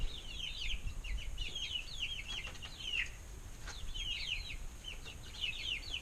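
Chickens in a coop with a newly acquired rooster, giving soft repeated clucks and chirpy calls in bursts over a steady low background hum, fairly faint and with no talking.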